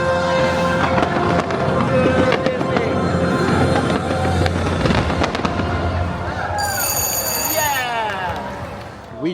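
Fireworks at the Cinesational night show at Universal Studios in Orlando make dense, loud crackling and booming bursts, with crowd voices and chatter mixed throughout.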